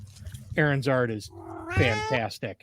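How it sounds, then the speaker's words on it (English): A house cat meows loudly twice nearby, long drawn-out yowling cries, while a person talks at the same time. "That was my cat."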